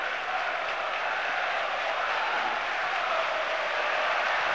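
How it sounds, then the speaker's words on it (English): Football stadium fans applauding during a Rangers versus Celtic match, a steady, even wash of distant crowd clapping and noise that holds for several seconds with no clear breaks. "And Amoruso applauding the fans who had been applauding him."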